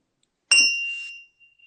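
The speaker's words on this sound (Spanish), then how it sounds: "la campana de Gorgona" The Gorgona bell struck once, a bright, close metallic ding that rings on clearly and fades away within about a second.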